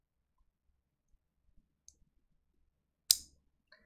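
A lubed tactile silent MX-style keyboard switch is pressed a few times, giving faint, soft clicks followed by one sharper, louder click, all close up in an otherwise quiet room.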